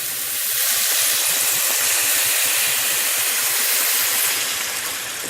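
Red wine poured into a hot braising pot of beef hisses and sizzles in a loud, steady wash of steam that holds for several seconds before easing slightly at the end.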